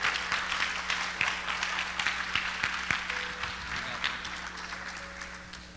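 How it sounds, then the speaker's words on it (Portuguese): Applause from a church congregation during a morning service, a steady patter of clapping spread through the room over a low hum, fading slightly toward the end. "E quem crê, aplaude o nome do Senhor."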